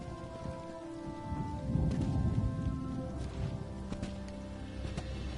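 Steady rain falls in a Morrowind region of The Elder Scrolls Online, a soft, continuous patter with scattered droplet ticks and a low rumble swelling briefly midway, with no talk over it.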